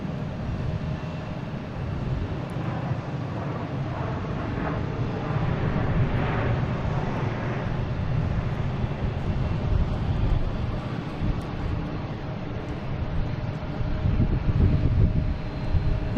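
An airliner passes at Boston Logan International Airport, a steady broad roar that swells gradually and holds for the whole stretch, mixed with wind buffeting the microphone.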